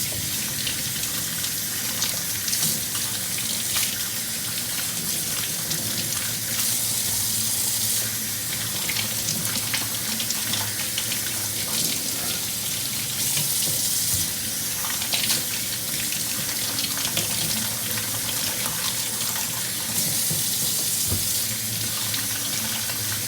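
Running tap water pours steadily into a sink while mushrooms are washed, a constant close splashing gush with faint shifting spatter from the handling, and no talk.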